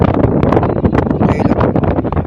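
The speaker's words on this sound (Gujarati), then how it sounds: "પવન પણ છે" Strong wind buffets the microphone in a continuous roaring rush at the Diu seaside at sunset, loud and close, with no voices.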